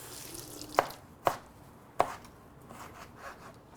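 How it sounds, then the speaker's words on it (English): A knife chops through onion and tomato on a cutting board for a Jamaican shepherd's pie, three sharp, separate strikes spaced unevenly, close and crisp against a quiet kitchen. "I'm gonna cut about half an onion. I'm gonna cut up a tomato."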